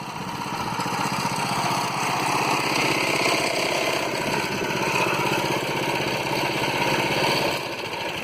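Coleman CT200U EX mini bike with torque converter, its small engine running steadily and loudly close by for the whole stretch, a continuous buzzing drone.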